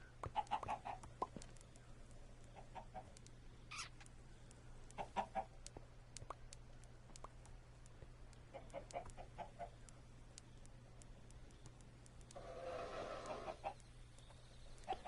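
Chickens in a hardcore survival game give soft, scattered clucks, short bursts spaced irregularly over a faint steady background hum, fairly distant and quiet, with no talking.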